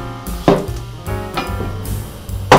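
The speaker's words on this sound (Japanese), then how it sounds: "大体厚み5ミリぐらいで、油で揚げやすいような厚さにカットします" A round eggplant sliced about 5 mm thick on a wooden cutting board, with three sharp knife thuds spaced about a second apart, close and clear.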